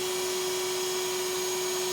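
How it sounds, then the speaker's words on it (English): A steady, loud vacuum whine with a constant high hum as a bee swarm is sucked up during a rainstorm, running without a break and with no talking. "I'm using the higher pressure with the vacuum than I really want to"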